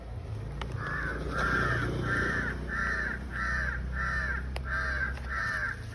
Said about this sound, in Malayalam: കാക്കയൊക്കെ കരയുന്നല്ലോ